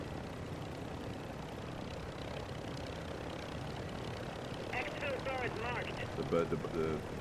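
A helicopter in a video game gives off a steady, droning rotor-and-engine rumble that holds through the whole stretch, with players talking over it.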